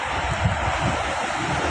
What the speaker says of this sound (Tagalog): Kung natapat po ito sa high tide, malaki ang dagat.